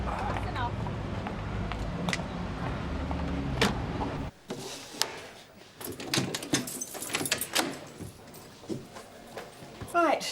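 Car doors open and slam shut as people climb into a police car during a tense arrest, a few sharp thuds and clunks mixed with shouting voices and street noise.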